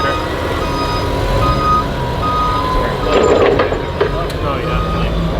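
Steady electronic reversing beeps from a forklift at a Lamborghini Countach uncrating, repeating under engine rumble and nearby voices talking.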